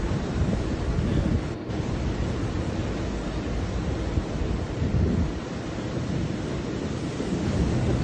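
Strong ocean waves roar at the beach, a continuous heavy wash of surf mixed with wind buffeting the microphone, loud and unbroken throughout.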